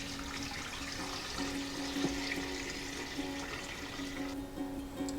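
Room-temperature water pouring into a 16-quart pressure canner, a steady close splashing rush with a faint tone running underneath, no voices.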